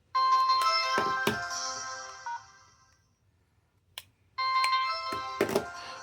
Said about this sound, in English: I'll go ahead and shut both of them off one after the other.